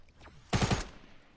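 An accidental gunshot goes off, a loud burst of three rapid reports with a short rattling tail that fades over about a second, heard close and alone.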